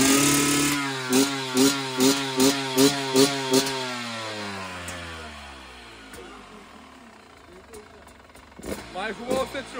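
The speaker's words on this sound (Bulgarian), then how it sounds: "Сложихме новата гайда на мотора" A motorcycle engine with a new exhaust revs in several sharp bursts, then settles into a rumbling idle before revving again near the end; a loud, close exhaust note.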